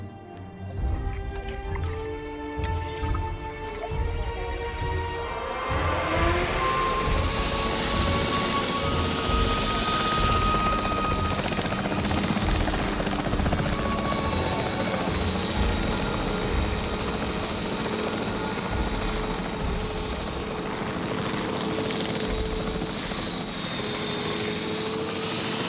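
A capture team helicopter in a video game, its rotor drone and engine whine fading in and holding steady as a loud, continuous hum layered over game sounds, with no talking.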